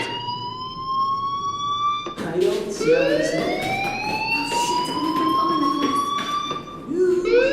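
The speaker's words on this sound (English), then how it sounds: "do you hear that fire alarm? That means you should be outside." A fire alarm in the video game Life is Strange wails in rising and falling electronic sweeps, loud and steady, with a brief break before it resumes.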